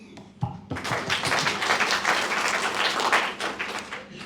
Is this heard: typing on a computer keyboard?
no